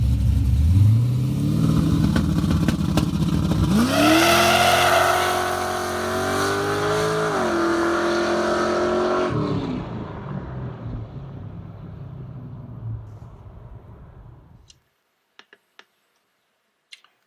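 A nitrous-equipped Camaro makes a loud test pass, its engine revving hard and climbing through gears before the roar fades into the distance, leaving near silence with a few faint clicks at the end.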